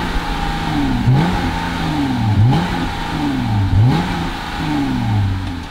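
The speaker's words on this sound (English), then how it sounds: "I just revved that really asthmatic exhaust at you." A 2020 Jeep Gladiator Sport's engine revs up and drops back repeatedly, four rising-and-falling bursts of throaty exhaust close by, settling to a rough idle between them.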